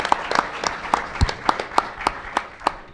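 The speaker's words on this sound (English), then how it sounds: "I want to give them a round of applause" Scattered applause for college football players at a Murray State community event: a sparse, moderately distant patter of individual claps with a few sharp nearby hand strikes.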